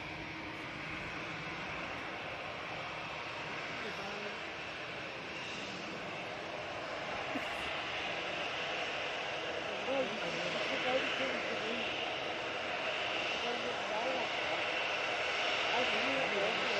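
An airliner departs Manchester Airport bound for Ibiza, its engines producing a continuous, fairly distant roar that swells slowly over the span, with faint voices in the background.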